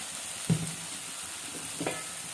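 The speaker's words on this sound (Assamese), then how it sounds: "এতিয়া মোৰ এইখিনি অলপ ফ্ৰাই হৈছে" Dal ingredients frying in a pan with turmeric, a soft steady sizzle with a couple of stirring scrapes, heard close and alone.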